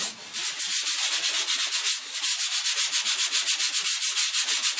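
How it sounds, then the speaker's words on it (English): Folded 150-grit sandpaper rubs across a ceiling by hand, a loud close scratchy rasp repeating in quick even strokes, about five per second, with no voices. "I have my 150 sandpaper folded over, and so we're ready to sand"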